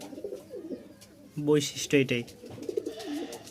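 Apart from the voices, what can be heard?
male Bashiraj kokka pigeon cooing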